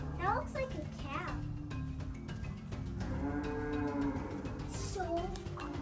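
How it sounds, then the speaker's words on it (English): Ankole cattle moo out in the open at a Disney resort savanna beside grazing impala, a few drawn-out lowing calls rising over steady chatter from adults and children nearby. "We think that's an Ankole cattle."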